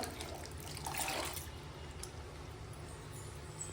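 Jaggery water poured into a pan, a soft brief liquid splash and trickle peaking early, then settling into a faint low background hiss.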